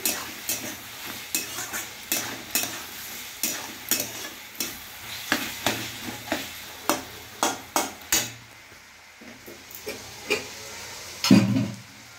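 A spatula scrapes and stirs food frying in a pan, landing in a steady series of sharp strokes over a soft sizzle. The strokes stop briefly near the end and then come back with one louder clatter. No one speaks.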